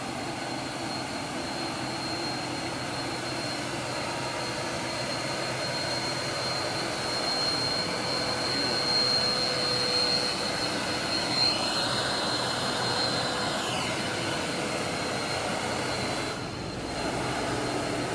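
A tanker truck's engine drones steadily and loudly for the whole stretch, a broad continuous roar with a faint rising whine partway through and a brief dip near the end, no voices.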